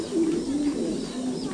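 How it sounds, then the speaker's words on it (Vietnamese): Thai Titan meat pigeons cooing on a farm, a close, steady run of low throaty coos over about a second and a half, with no talk. "Đây, đây tất cả đây là bồ câu ti tan thái siêu thịt ở trại mình này"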